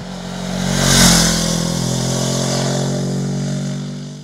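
A Triumph Speed Twin 900 classic motorcycle engine runs close by, its steady droning note swelling to a peak early on as it revs, then holding a strong, even rumble before easing off slightly.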